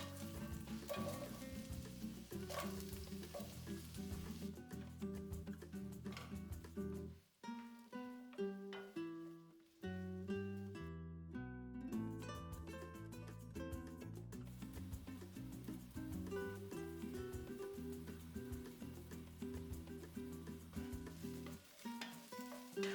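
Zucchini and ginger frying in sesame oil in a deep pan, a gentle ongoing sizzle buried beneath steady background music that drops out briefly midway.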